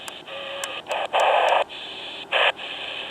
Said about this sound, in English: start at the low end of the dial here and just work our way up. And you can hear it go through channels